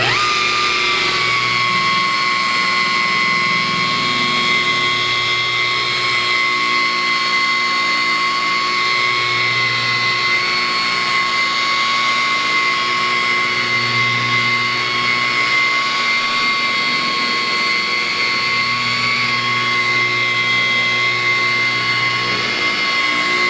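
A rotary polisher runs at about 1600 RPM, buffing the paint on an older vehicle. It makes a loud, steady whine with a continuous hum and holds an even pitch for the whole stretch, with no talking.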